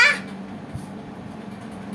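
A cat gives a short, fairly close meow at the very start, then only a low hum and faint room noise follow.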